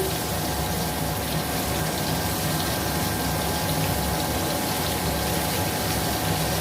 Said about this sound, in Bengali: সেদ্ধ হয়ে গেছে জলটা ছেঁকে নিলাম